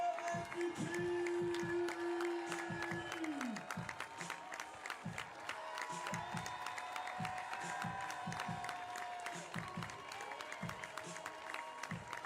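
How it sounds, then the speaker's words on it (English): An arena crowd at the FIBA 3x3 Women's Series finals in Bordeaux gives sustained, dense applause for the MVP, with cheers mixed in. An announcer's voice and a long tonal horn note sound over the clapping. "Bordeaux, j'aimerais un tonnerre d'applaudissements pour la numéro 77"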